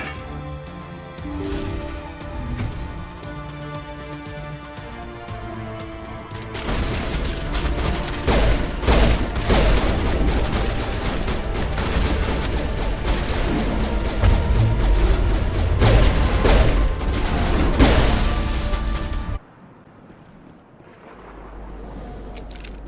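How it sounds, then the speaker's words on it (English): Sci-fi gunfire in a Mass Effect battle: a turret firing energy bolts amid dense, continuous blasts and booms over layered game music, loud and sustained before cutting to a quieter tail. "That turret got some nasty bolts."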